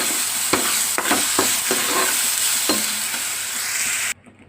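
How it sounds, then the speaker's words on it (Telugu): Masala mixture for chicken curry frying in a pan while being stirred, a dense steady sizzle broken by several sharp scraping knocks of the spoon, close and loud, cutting off abruptly near the end. "నెక్స్ట్ మసాలా మిశ్రమం వేస్తున్నాను. వేసాక కొంచెం కలపాలి."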